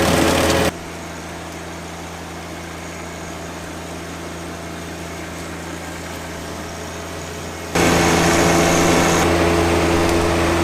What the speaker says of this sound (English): I like how this mower cuts the stalks a lot better than the mid-mount mower did.